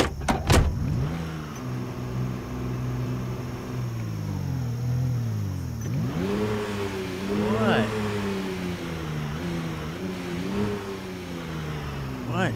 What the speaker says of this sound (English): let's park the fire truck